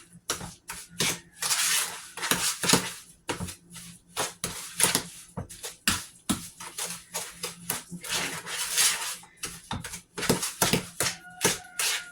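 Butter and sugars are creamed together in a bowl, producing a steady run of close, rapid clicking and scraping strokes with an uneven rhythm that carries on throughout.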